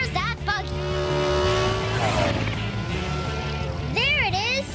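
A cartoon race car speeding along, a steady roaring engine whoosh with a pitch sweep, under excited animated voices talking over it.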